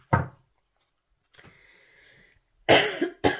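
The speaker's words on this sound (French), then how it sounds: "Je suis désolée si je tousse." A single sharp cough, then a soft shuffling noise, followed by a loud double cough up close.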